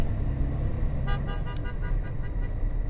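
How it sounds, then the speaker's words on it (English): A car horn honks briefly at a long truck in traffic, a short toot over the steady rumble of the truck cab and road noise. "Yeah, and I got honked at"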